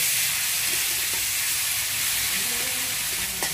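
Duck meat sizzling in hot oil with salt and turmeric in a pan, a loud steady hiss of frying with occasional faint clinks and pops, close up and alone.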